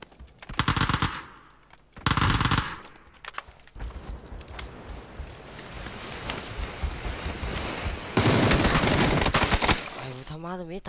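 Video game shootout gunfire, with short loud automatic bursts at the start and then a long sustained stretch of rapid firing, alongside clicking like keyboard keys and a brief voice near the end.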